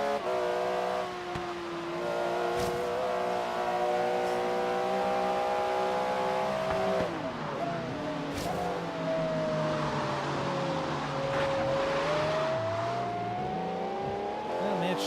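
Racing engine of an S2 class car in Forza Horizon 3, a loud sustained roar shifting pitch as it accelerates and revs, with gear changes and other cars nearby, continuous throughout.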